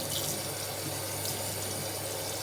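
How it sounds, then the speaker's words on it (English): Cool water runs steadily from a kitchen tap to rinse cooked ramen noodles, a continuous even rush with no pauses and no voices. "Right, rinse with cool water. So literally just turn the tap on"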